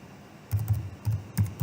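Computer keyboard typing while searching an online publications database: a few soft, close keystroke clusters in short bursts over a quiet background, no voices.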